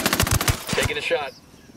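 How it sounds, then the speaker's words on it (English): Gunfire in the video game Ghost Recon Wildlands: a rapid burst of loud, close automatic shots, about seven sharp cracks in quick succession, ending in a ringing tail and then quiet. "Taking a shot."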